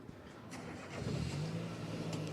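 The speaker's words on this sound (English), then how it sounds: "Car fired up and getting ready." A race car engine fires up in the pit lane at a Donington Park race weekend, a steady mid-pitched idle that rises into a louder, rougher hum, heard alone.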